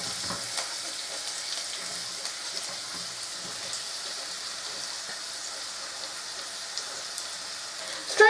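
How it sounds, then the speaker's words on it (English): Onions hit hot oil infused with aromatics in a pan for keema, giving a steady, soft sizzle and crackle that carries on alone at a moderate level. "What I'm going to do next is put in my onions."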